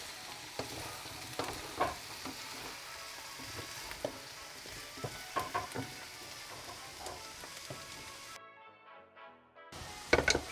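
Carrots for beef bourguignon are stirred in a hot pan, with a steady sizzle broken by repeated scraping, clattering stir strokes close by, then a brief near-silence before the frying returns.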